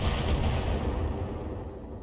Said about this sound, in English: AC-5 ammo explosion.